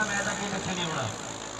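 A Holland 3630 tractor engine runs steadily at close range, a continuous mid-pitched diesel drone that holds for under two seconds, with no pauses or changes in pace.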